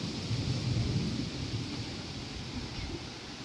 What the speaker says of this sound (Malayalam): നല്ല കാറ്റും മഴയാന്ന് തോന്നുന്നു.